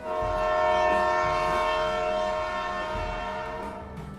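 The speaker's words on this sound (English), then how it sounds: "As the train chugged off from the station, everyone shook hands for a final goodbye." A train pulls away from a station, sounding a loud sustained horn with rich harmonic tones over low rumbling and rhythmic chugs that fade gradually as it departs.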